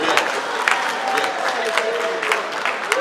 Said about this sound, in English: Round of applause for you, please.